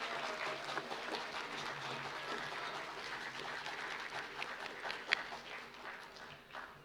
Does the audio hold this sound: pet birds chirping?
no